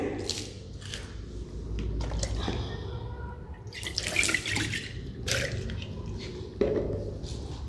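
Water running and splashing while a glass burette is rinsed out in a chemistry lab, a steady close trickle with drips and sloshes throughout, no talk.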